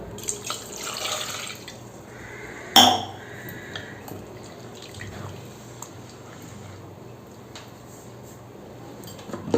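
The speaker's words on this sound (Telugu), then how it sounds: "ఇప్పుడు వన్ గ్లాస్ వాటర్ పోసుకుందాం" A glass of water trickles and splashes into a pot of dal with a short clatter of a vessel near the start, then keeps running softly.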